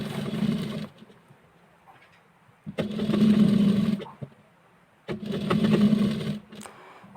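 A sewing machine stitches blouse fabric in three sustained runs, each lasting a second or more, with short quiet pauses between them; the steady whirring hum is close and clear, with no talking.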